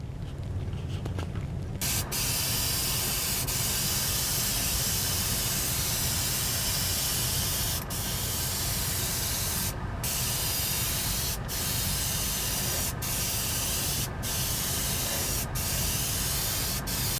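An Iwata airbrush sprays paint onto motorcycle fairing trim during a Ninja restoration, a loud continuous hiss of air and paint broken by several brief pauses where the trigger is released, close up and with no talking.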